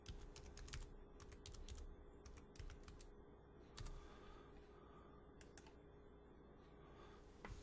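Someone enters a password on a computer keyboard in short bursts of key clicks separated by pauses, with a steady low hum underneath.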